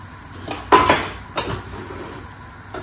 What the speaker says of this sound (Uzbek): Endi yana aralashtiramiz.